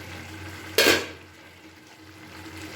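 Cabbage and fish head curry in a pan, under a low steady simmer, gets one short loud scrape of a spoon through it, then the quiet bubbling carries on.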